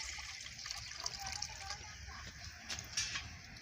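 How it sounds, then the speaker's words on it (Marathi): Water is poured into a pot of rice in a village kitchen, making a soft, continuous splashing and trickling sound that swells a little near the end. It is fairly faint, with no speech. "2 वाटी पाणी टाकायचं."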